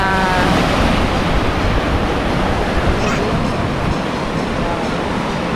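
Strong ocean surf crashing continuously at a rocky beach in Saipan on a windy day, a loud, close, unbroken wash of breaking waves with no one talking.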